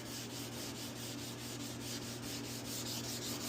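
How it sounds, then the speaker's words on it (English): A sanding block with 600 grit sandpaper rubs over a flaked clear coat in steady back-and-forth strokes, a soft continuous scratchy hiss with an even rhythm, close by and alone. "So what you want to do, cross hatch your sanding."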